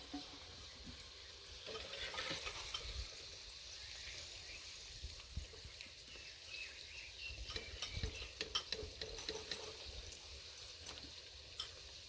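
Okra frying in hot oil while a spoon stirs it steadily, a soft continuous sizzle with scattered scraping clicks of the spoon against the pan throughout, no talking.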